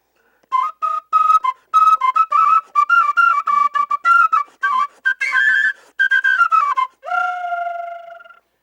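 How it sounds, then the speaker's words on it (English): A clay eagle whistle is blown in a rapid series of short, shrill, warbling bursts, about a dozen chirps ending in one longer sliding tone, close and loud with no talking. "These are whistles. The eagle whistle made from clay."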